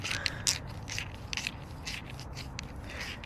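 A torque wrench is being adjusted to 27 during an oil change on a 1999 Toyota Corolla, giving a brief series of soft ratcheting clicks and scraping mechanical turns, close and fairly quiet.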